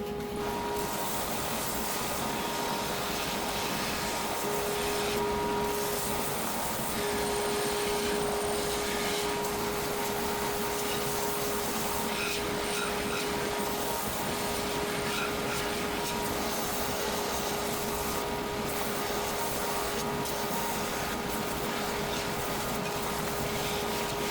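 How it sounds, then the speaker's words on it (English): A belt sander grinds the wooden heel of a bass guitar neck, a steady, loud, unbroken motor whine with gritty abrasive rasp running throughout, no voices. "Up on the belt sander."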